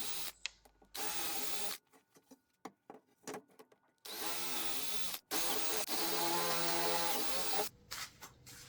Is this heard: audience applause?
no